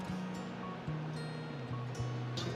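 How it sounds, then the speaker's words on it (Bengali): A waterfall in North Sikkim pours down as a steady, broad rushing hiss, with a low droning hum running underneath throughout. "আর ঝর্ণাটা নামছে দেখো এখান থেকে"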